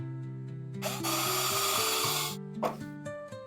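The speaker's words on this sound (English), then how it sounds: "I'm just going to screw it right to the bottom and then I can screw this directly to my bench." A power driver drives a screw into scrap plywood to fix it to a woodworking jig, giving one loud, steady whir of about a second and a half, close by over soft background music.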